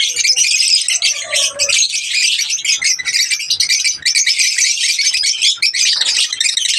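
Dense, continuous chirping and twittering from many mature African lovebirds, lively and close, filling the whole stretch without pause.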